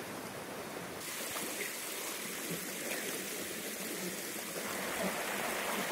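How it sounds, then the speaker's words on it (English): A river swollen after heavy rainfall, flowing in a steady, broad rushing wash of water that holds at a moderate level throughout, heard alone with no one talking. "I've got absolutely no chance of crossing this river today after all this rainfall. Look at it."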